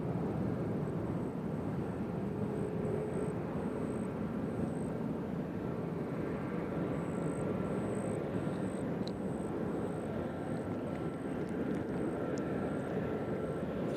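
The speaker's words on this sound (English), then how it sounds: "So there comes Prime Air coming in this way." A Prime Air cargo plane arriving at Nashville International Airport, its jet engine roar a steady broad rumble filling the whole stretch with a faint high whine on top, heard from a spotting position without talking.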